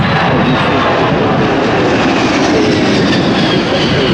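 A Lockheed Hercules at an airshow powers up and accelerates down the runway for takeoff, producing a loud, steady, broad engine roar that fills the air without a break and without voices.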